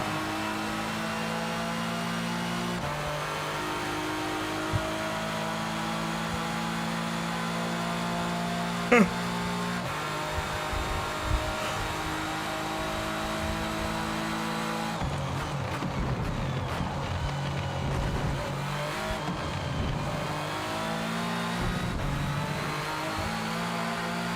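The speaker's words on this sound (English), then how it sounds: "I don't think bro is handling his Ferrari well." Ferrari in a video game, its engine droning and revving through repeated gear changes, rising and dropping pitch, with a rougher, busier stretch later on; close and steady throughout.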